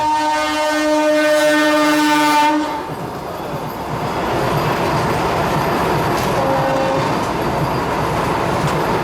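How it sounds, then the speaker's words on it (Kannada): A train horn blares for a couple of seconds, then the Gol Gumbaz Express from Mysuru to Pandharpur passes, rumbling loudly with clattering wheels that continue steadily. "ಮೈಸೂರಿಂದ ಪಂಢರಪುರಕ್ಕೆ ಹೋಗುವಂಥ ಗೋಳಗುಂಬಜ್ ಎಕ್ಸ್ಪ್ರೆಸ್ ರೀ"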